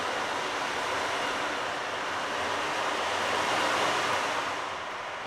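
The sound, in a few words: ocean drum imitating waves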